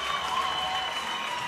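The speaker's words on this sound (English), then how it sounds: "the German crowd letting the home team hear it" A German crowd at a CrossFit Games Europe semifinal claps and cheers in a dense, continuous roar of applause, loud and close for the whole stretch.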